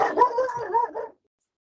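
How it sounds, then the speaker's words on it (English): An agitated dog gives a short burst of whining, yipping vocalizations close by, rising and falling for about a second before cutting off into silence. "I'm sorry, the dog is freaking out."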